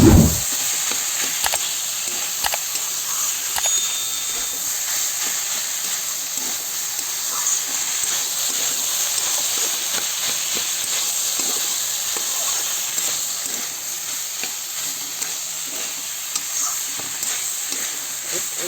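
Green chillies, red chilli powder and ginger-cumin paste sizzle steadily in hot oil for a Bengali banana stem dish, a continuous close frying hiss with occasional sharp crackles, no talking.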